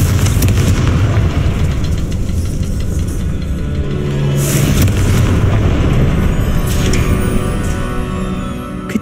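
A Confringo spell explosion in a video game, a deep rumbling boom with a long, loud low roar that keeps going, then a sharper burst midway.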